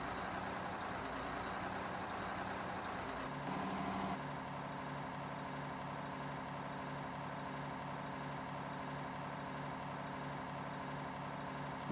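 A truck towing a trailer rumbles steadily through a tight turn, its engine note low and constant at close range, with a brief shift in pitch partway through and no talk.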